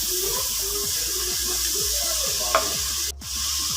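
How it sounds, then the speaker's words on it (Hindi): Chicken frying on a stovetop, a steady loud sizzle with repeated stirring scrapes in a regular rhythm, close up, with a brief clink near the end. "साथ साथ चूल्हे पे मैं चिकन को भी फ्राई कर रही हूँ।"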